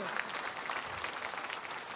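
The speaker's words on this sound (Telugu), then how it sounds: "పిల్లలందరికీ గట్టిగా చప్పట్లు" An audience claps for children at a spiritual gathering at a pyramid meditation venue; steady dense applause fills the full two seconds, moderately loud and continuous.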